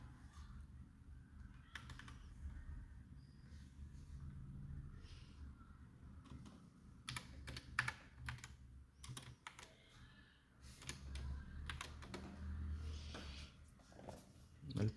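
Computer keyboard typing as code is written, quiet clusters of rapid key clicks with pauses between bursts over a faint background hum, with occasional soft speech.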